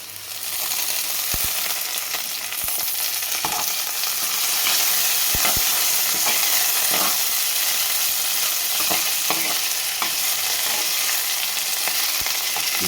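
Green chillies and curry leaves crackling in hot oil with chana dal and mustard seeds, a loud, continuous sizzle punctuated by scattered pops and occasional stirring knocks, no one speaking.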